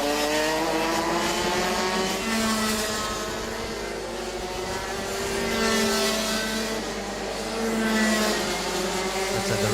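A fleet of Energy racing karts runs on a circuit at a Thailand race meeting, their high engines droning continuously and loudly, swelling and fading as they pass through the laps.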